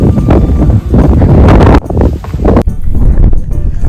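Strong wind gusts on a mountain trek at Harishchandragad batter the microphone in a loud, rough roar that surges and drops briefly, with no voices.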